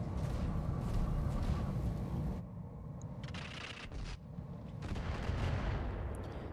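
Mech weapons fire in the RogueTech mod of the BattleTech video game, a dense rumbling barrage of booming blasts and crackling impacts that drops briefly, then resumes loud and sustained.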